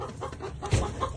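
A farm chicken near the coop gives a short, close cluck, a brief burst of throaty clucking standing out over quiet outdoor background.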